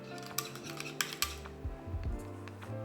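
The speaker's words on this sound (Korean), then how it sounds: "계란을 풀어줄 거예요" Eggs for a shrimp and egg fried rice being beaten in a bowl, with quick metallic clinks of cutlery against the bowl over a low hum, close and quiet.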